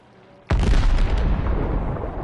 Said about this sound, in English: There's enemy shooting right next to you or something.